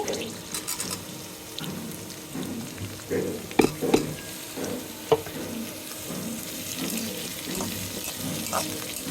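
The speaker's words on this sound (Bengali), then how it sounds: "হালকা ভাজা ভাজা হচ্ছে" Dried Rupchanda fish sizzles steadily in a hot pan, with a constant crackling hiss broken by a few sharp clinks and scrapes of stirring.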